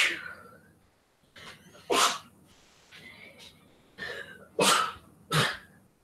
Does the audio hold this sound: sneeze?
yes